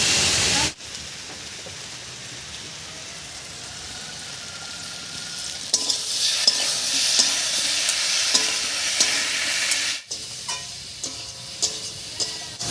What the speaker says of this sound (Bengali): লঙ্কা বাটা দিয়ে একটু নাড়াচাড়া করে নিয়েছি